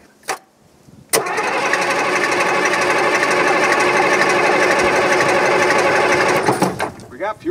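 An old Case 1150 dozer's engine cranks, then catches and runs steadily for several seconds, a loud, close mechanical rattle and roar that cuts off near the end, with brief talk before and after.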